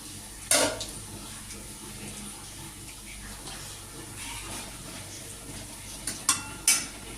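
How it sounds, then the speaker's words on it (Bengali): Dried red chillies and panch phoron hitting hot oil for tempering give a steady, low background hiss, with a few sharp crackles and spatters near the start and again toward the end. "তেল আমার গরম আছে এবার আমি শুকনো লঙ্কা ফোড়ন দিয়ে দিলাম এবার পাঁচফোড়ন দিয়ে দিলাম"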